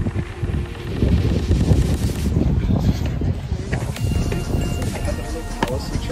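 Cold, strong wind buffets the microphone at Belvedere Palace in Vienna, Austria, a loud, rumbling, gusty roar that swells and dips throughout, with no voices heard.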